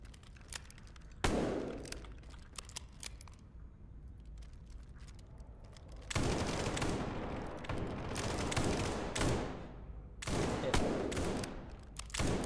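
Revolver gunfire in the SCP 5K video game, heard as bursts of loud, close shots in clusters, separated by quieter stretches of game ambience.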